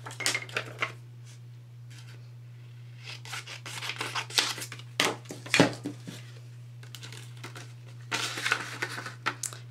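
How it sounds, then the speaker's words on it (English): A 2-inch circle punch sliding over and cutting heat-embossed cardstock, with scattered crisp clicks, scrapes and crunches in irregular bursts over a steady low electrical hum. "I'm going to take my 2-inch circle punch, and I am just going to slide it in here"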